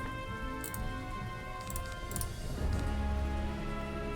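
Rain spell effect in a max-level fire PvP match of the video game Wizard101, a soft patter of falling raindrops over a humming musical background, steady and moderately loud with no talk.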